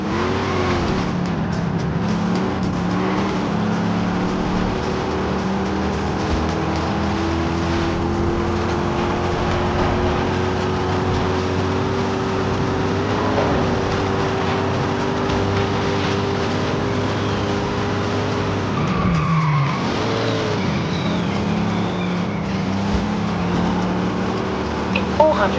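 An old car in Forza Horizon 5 drives with a steady engine drone that slowly climbs in pitch, then drops sharply near the end as it slides, with talk over it.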